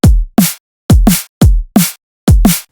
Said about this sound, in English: This is called the two-step pattern, and it sounds like this.